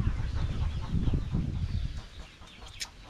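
Backyard chickens cluck softly at a distance amid a steady rush of wind blowing on the coop outdoors at nightfall, the calls faint and scattered beneath the broadband noise.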